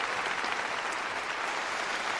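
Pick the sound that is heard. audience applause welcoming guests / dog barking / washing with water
audience applause welcoming guests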